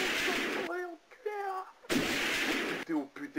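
Gunshot sound effects in a Playmobil news parody of a prison escape: a few harsh bursts of gunfire alternate with a voice talking in French.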